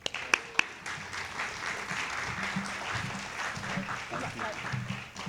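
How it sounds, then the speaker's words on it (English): An audience applauds at a 2024 city council debate, with a couple of sharp claps at the start, then a steady wash of clapping filling the room, moderately loud with no words. "Let's have a big round of applause for Clark."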